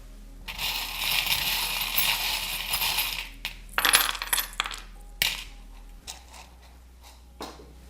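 Small divination charms tossed and rattled onto a surface for a May–June 2024 Gemini reading, giving bursts of clinking, coin-like jingles and scattered ticks over several seconds, close and fairly loud, with no talking.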